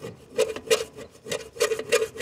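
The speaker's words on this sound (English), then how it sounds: "And you gotta get in here and start scraping it." A tool scrapes caked, moldy dried grass off the underside of a lawnmower deck in a steady run of rasping strokes, close and fairly quiet with no talk.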